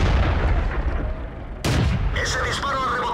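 Cannon shot from a tank in the video game World of Tanks, a single sharp, loud blast that cuts in abruptly over a constant rumbling engine and battle background.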